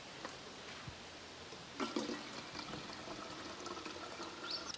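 Water trickles and splashes as it is poured from the lid of a Ghillie Kettle 1L camping stove kettle. The pour is faint and close, with no voices.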